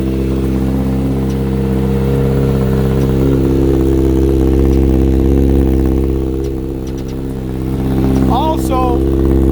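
Kawasaki ZX6R motorcycle with an M4 exhaust running nearby, a loud steady low rumble with a slight swell near the end, and a voice speaking briefly over it.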